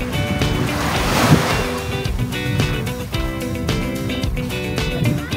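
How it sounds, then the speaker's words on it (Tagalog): Calm sea waves wash steadily at a beach resort in Bicol, a continuous broadband surf wash with gentle swells, close and fairly loud, no voices. "yung dagat dito is kalmado lang"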